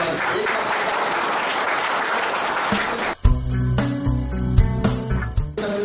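Loud applause from an audience at an MSME energy-efficiency technology programme in Noorsarai, Nalanda, Bihar, dense clapping for about three seconds before giving way to music or amplified tones with strong low notes.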